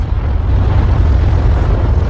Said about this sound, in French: Les explosions volcaniques sont dévastatrices.